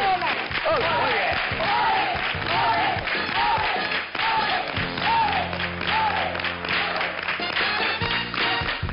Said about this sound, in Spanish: Yo quiero de nuevo escuchar las palmas por Jerez, pero a todo el público de aquí